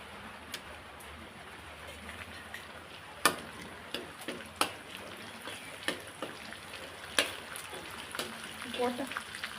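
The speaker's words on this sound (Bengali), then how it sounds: "এরপরে আমি ওই তেলে দিয়ে দেবো গোটা গরম মশলা।" Whole garam masala spices frying in hot oil in a pan while chicken biryani is being cooked, giving soft crackling pops and sharp ticks scattered over a low, steady sizzle, with a few brighter crackles coming through.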